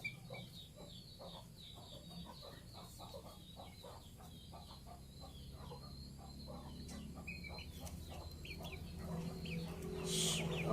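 Small chickens cluck repeatedly in short, quick bursts at a farmhouse, fairly faint against steady background noise, with a brief sharper call near the end.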